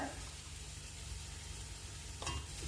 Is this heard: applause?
no